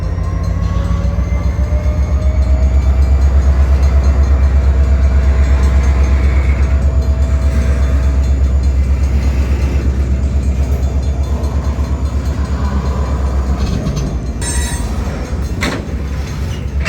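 A loud Portland and Western freight train carrying lumber and boxcars rumbles past close by between Halsey and Harrisburg, Oregon, with a heavy low roar, wheel noise and occasional metallic squeals, no voices.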